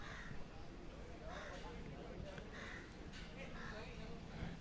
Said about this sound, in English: there's plenty of crows in Sri Lanka